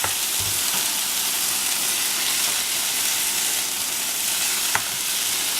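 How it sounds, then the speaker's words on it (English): Jalapeno peppers sauté in a pan with salt and pepper, giving off a steady, even sizzle that hisses without a break all the way through, with one small tap near the end. "I'm going to add a little salt and pepper while she's sauteing it."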